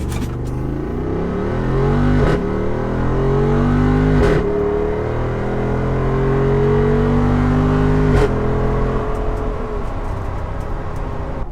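Jeep Wrangler 392 launching hard in Off-Road Plus mode, its big engine revving up through rising gears in a loud, close, continuous roar with brief dips at each shift.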